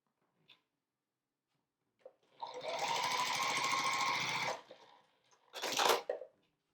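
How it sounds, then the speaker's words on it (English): A sewing machine stitches two fabric rectangles together for a scrap quilt block, running in a steady fast whir for about two seconds, then a brief second burst, with quiet clicks around it. "I'm going to sew these two rectangles together"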